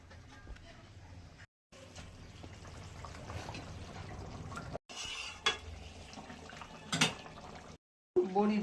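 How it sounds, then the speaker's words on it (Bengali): Hot water poured into a pan of Bengali rohu fish curry with potato, beans and homemade lentil dumplings, a splashing pour amid clinking cookware and stirring, broken by brief silent cuts. "গরম জল করে রেখেছিলাম, গরম জলটা দিয়ে দিই।"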